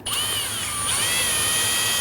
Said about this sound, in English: Use your drill and a good bore brush